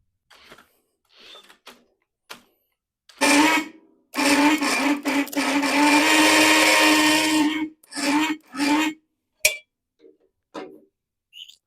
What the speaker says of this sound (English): Will an impact turn over an 11 horsepower Briggs & Stratton?